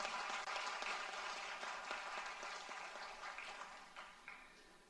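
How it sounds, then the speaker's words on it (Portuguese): Sustained applause from an audience at a legislative assembly medal and honorary title ceremony, dense steady clapping that slowly fades near the end. "Salve de palmas."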